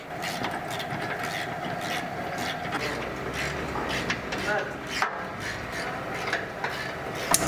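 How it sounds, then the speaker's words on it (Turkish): A 17 mm socket ratchet removes the fixing bolts of the underbody shield on a raised Fiat Linea 1.3 Multijet. Close metallic clicking and rattling comes in irregular bursts, with a few louder knocks near the end. "17 lokmayla sabitleme cıvatalarını söküyoruz"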